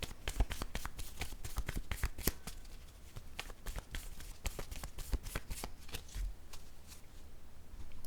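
A deck of playing cards shuffled close up during a love-themed card reading, giving a steady run of crisp, rapid riffling clicks and snaps that continues for about eight seconds, with no voices over it.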